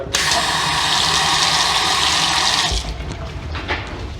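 A water tap runs in a loud, steady gush into a sink to wet a comb for styling pomaded hair, then shuts off, followed by quieter handling sounds.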